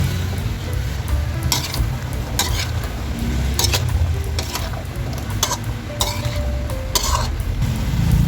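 Chicken liver menudo with carrots and potatoes simmers and sizzles in a pot, with a spoon scraping and clinking against the pan in repeated strokes over the steady bubbling.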